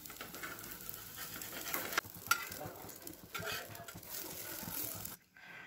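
Black dosa cooking on a hot pan, a steady close sizzle with soft stirring scrapes and a sharp tick near the middle, cutting off abruptly at the end.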